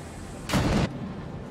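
A single heavy video-game cannon blast booms out, lasting under half a second, loud and close against a quiet background hum.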